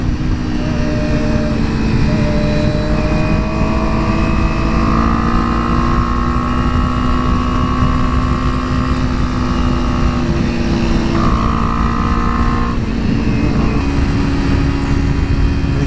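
Kawasaki Ninja 300 and Honda Grom motorcycles riding in a group on Angeles Crest Highway, with a loud, continuous engine drone and shifting pitch as revs rise and fall, heard close over steady wind rush.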